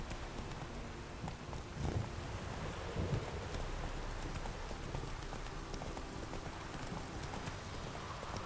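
Horse hooves clip-clopping in The Witcher 3, a steady run of hoofbeats over faint wind and ambient game sound, with a couple of slightly louder thuds.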